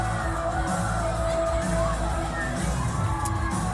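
A large crowd cheers and whoops continuously at a concert, a dense, steady roar of voices with scattered shouts rising above it throughout.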